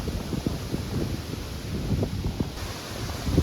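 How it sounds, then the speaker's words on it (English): Gusty wind blows outdoors across a field, a steady broad rush with low buffeting thumps against the microphone, fairly close and continuous with no talking. "All the flowers are blowing away in this wind."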